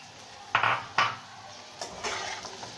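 Potatoes with turmeric, chili powder and green chilies stirred in a pan for alu posto, two sharp clinks of a utensil against the pan followed by softer scraping and shuffling, close and quiet with no speech.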